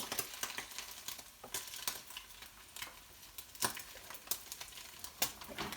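Eggs frying in a pan for a homemade sushi dinner, giving a steady low sizzle with scattered crackles and pops, close and fairly quiet, with no talking.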